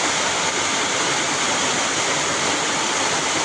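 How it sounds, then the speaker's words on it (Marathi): Torrential rain pours down in a Konkan village during the season's first heavy shower, a steady, loud wash of water noise without breaks or speech. "खूप पाऊस पडतोय बघा, पाणी बघा किती आता."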